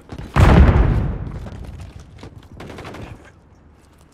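A grenade blast in the Modern Warfare 3 beta, a loud booming explosion that slowly decays, followed by scattered gunshots and smaller bursts.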